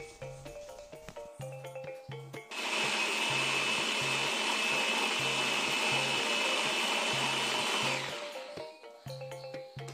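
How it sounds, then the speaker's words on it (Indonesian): An electric blender grinds galangal, ginger, shallots, garlic and red chili with water into a spice paste, a loud steady whirring motor run of about five seconds between quiet kitchen clinks and taps. "Sama seperti tadi, kita akan menghaluskan bumbu."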